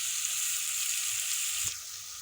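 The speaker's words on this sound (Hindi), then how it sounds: "अब इसमें हम दाल ऐड करेंगे और दाल को हम थोड़ा सा भून लेंगे" Moong dal gets stirred into prepared masala in a hot pan, giving a close, steady bright sizzle with one brief stir near the end, after which the frying softens slightly.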